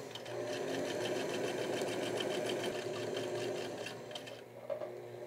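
A sewing machine stitches a collar with stays, running steadily at a fast, even pace close by, then slowing and stopping near the end with a small clunk.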